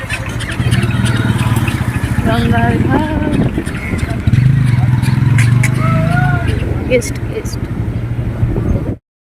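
Motor launch boat chugging at a Ganges ghat, a steady low droning engine throb running throughout under crowd noise and chatter, with voices and a faint chime over it before it cuts off.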